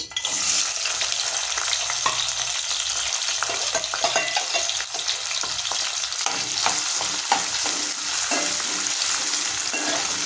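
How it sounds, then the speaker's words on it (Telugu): Sliced onions fry in hot oil in a kadai with a loud, continuous sizzle that holds steady throughout, punctuated by scattered spatula scrapes and stirring noises close by. "కళాయి వేడైంది, ఆయిల్ పోసుకుందాం. ఉల్లిపాయలు వేసేసుకుందాం."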